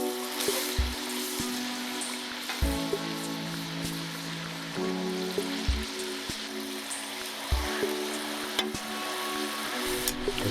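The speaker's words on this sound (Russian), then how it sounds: "переворачиваем мясо и обжариваем другую сторону также 5 минут" Pork chunks frying in a kazan over a campfire, a steady loud sizzle with periodic low knocks and clatter as the meat is turned, no voices.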